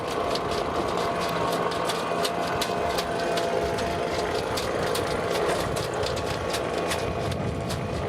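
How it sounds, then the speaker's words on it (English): Mainsail being hoisted aboard a Fountaine Pajot Saona 47 catamaran during a sea trial: a steady mechanical whirring with rapid, regular clicking throughout, close and continuous, with no voices. "So let's get that mainsail up and get started."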